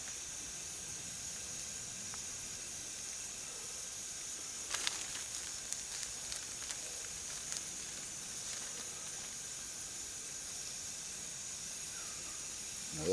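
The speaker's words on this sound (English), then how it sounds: "You can hear that cast iron popping a little bit." Floured cube steaks fry in a cast iron pan with a steady, quiet sizzle, and a brief cluster of sharp pops and crackles breaks through near the middle.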